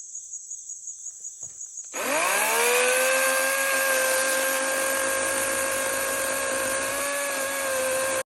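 A chainsaw cuts into a big oak tree stump root: faint ticking idle first, then the engine revs up and holds a loud, steady high whine without a break.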